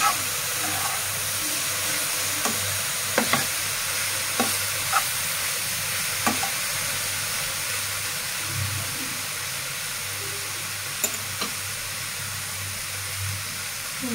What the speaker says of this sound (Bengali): এবার সুন্দর মতো নেড়ে চেড়ে নিয়ে অল্প কিছুক্ষণের জন্য ঢেকে দেব